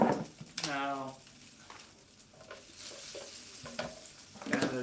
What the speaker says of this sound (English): Potatoes in, you should hear a good sizzle.